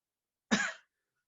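A single short, sharp cough, close to the microphone, with silence before and after.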